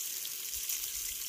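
Spring water being strained at a campsite in Lincoln National Forest: a steady, close, even rush of pouring water with no pauses.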